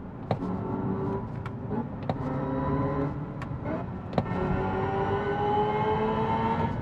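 A 2025 Hyundai Ioniq 5 N driving in 8th gear at about 2,000 RPM, with a steady, loud drone from inside the cabin, occasional sharp clicks, and rising tones toward the end.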